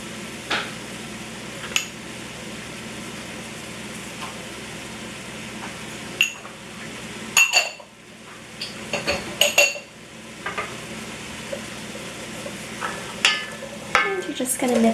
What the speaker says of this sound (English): Just going to mix that around.